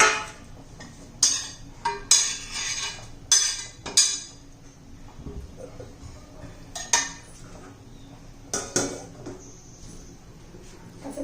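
A metal lid is set onto a cooking pot of jowar, besan and wheat flour shengole, making several sharp metallic clinks and clatters spread irregularly over a quiet kitchen background.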